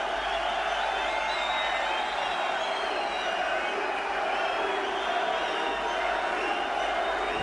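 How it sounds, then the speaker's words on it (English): Large arena crowd at a Basketball Hall of Fame enshrinement roars with steady, sustained cheering and chanting, a dense continuous wall of voices with no single speaker standing out. "half the video is the crowd chanting Larry"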